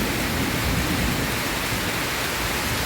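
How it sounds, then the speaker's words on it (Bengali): Heavy rain pours steadily and loudly at a farm where chickens and goats shelter nearby, a dense, continuous wash of noise with no talk. "বৃষ্টি শুরু হয়ে গেল।"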